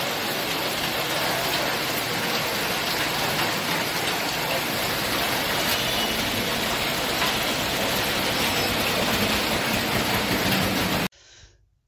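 Heavy unseasonal rain with stormy wind and hail in rural Nashik near Manmad and Nandgaon, a loud dense continuous roar that cuts off abruptly near the end, with no talk.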